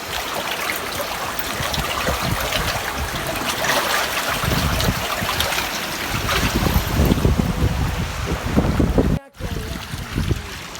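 Water rushes strongly into a rice paddy for irrigation, a loud, continuous, close gushing wash with wind buffeting the microphone and a brief dropout near the end.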